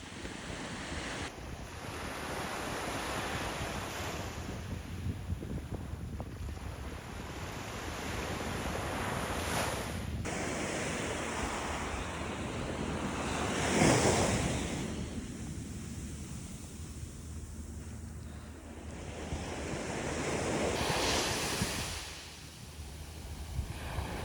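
Fairly gentle ocean waves wash onto the coarse sand of Imrang Beach in winter, a continuous rolling surf with swells that rise and fall, and gusty wind buffeting the microphone throughout.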